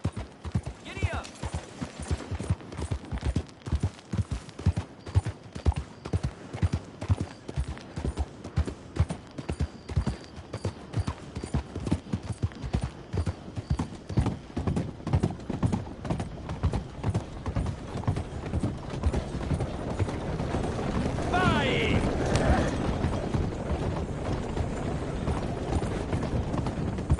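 A horse gallops in a PS4 video game, with fast rhythmic clip-clop hoofbeats running steadily and loud, joined later by a brief whinny and a denser rumble, and a voice speaking at times over it.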